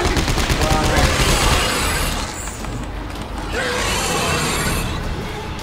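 Rapid gunfire in Dead Space 3 co-op play: dense, loud bursts crowd the first two seconds, then continue a little lower amid game noise. Voices talk over the shooting.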